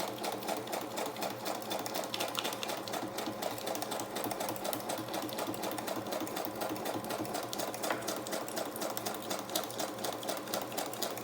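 A sewing machine runs steadily stitching down a fabric strip, a continuous close rapid mechanical chatter throughout.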